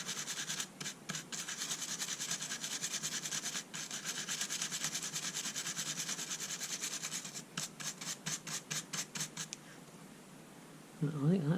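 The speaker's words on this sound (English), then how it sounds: "put some IPA on them, and then there's just a little Dremel brush, but obviously I'm not going to spin it in a Dremel" A small Dremel bristle brush worked by hand over Makita 7.2V impact driver parts wetted with isopropyl alcohol, rapid repeated scratchy scrubbing strokes close up, pausing briefly then ending with a short clatter.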